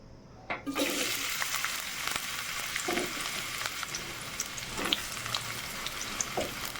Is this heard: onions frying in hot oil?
yes